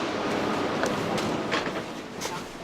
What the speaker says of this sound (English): And we're boarded into the train.